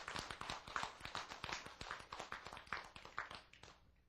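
An audience applauds in a talk-show style lecture, with dense, steady hand clapping that runs unbroken for about four seconds. It stays fairly faint and no one talks over it.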